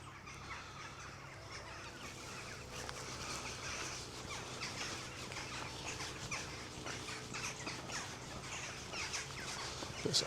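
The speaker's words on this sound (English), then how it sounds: "Plenty of black-headed gulls. Look at that." Black-headed gulls call around Lanark loch in the early morning, a busy chorus of harsh overlapping squawks at middle distance over steady background noise.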